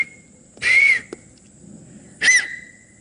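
A whistle blown in two short shrill bursts with a quiet pause between them, close and clear against faint background hiss.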